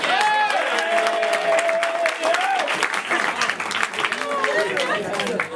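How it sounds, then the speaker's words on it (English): Applause and cheering from a live event crowd, clapping under a voice speaking throughout, with scattered whoops and crowd chatter mixed in. "Once again, clap for her, everyone."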